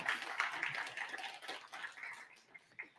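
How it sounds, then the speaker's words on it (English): Applause from an audience at a science fair keynote and magic show, a brief scattered patter of clapping that fades out within a few seconds. "Everyone give them a round of applause."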